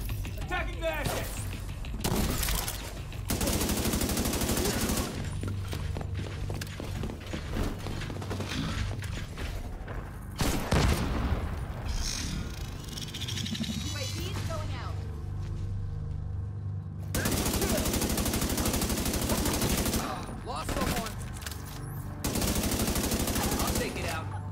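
Bursts of loud video game gunfire stand out from a dense mix of mechanical clatter and game effects, returning in several heavy stretches over a constant loud background.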